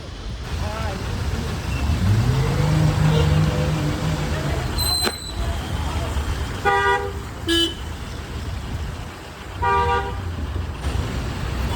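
A newly delivered tempo starting up and pulling away, engine noise rising while people talk nearby, with a rising tone and then several sharp horn toots in quick bursts.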